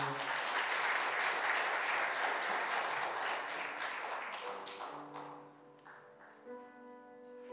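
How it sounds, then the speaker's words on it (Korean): A crowd at a church book-publication thanksgiving service applauds warmly, the dense clapping fading after about five seconds into scattered claps as a tone and a voice take over. "큰 박수 해주십시오."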